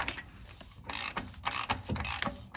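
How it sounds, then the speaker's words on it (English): Ratchet wrench clicking clockwise to tighten a part during basic maintenance on a 2016 Toyota Camry, three loud bursts of rapid pawl clicks about half a second apart, close and alone without talk. "Switch your ratchet to tighten, which is clockwise."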